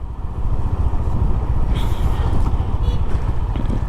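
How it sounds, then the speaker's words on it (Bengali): A GPX Demon motorcycle rides through a local area, its steady low engine rumble mixed with heavy wind buffeting on the microphone throughout. "জাস্ট এলাকার এখান দিয়ে বাইক রাইড করতেছি"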